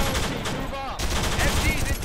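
Machine guns rattle in a military combat game, rapid overlapping bursts close by with a brief dip midway, while whistling and whizzing sounds weave through the steady gunfire.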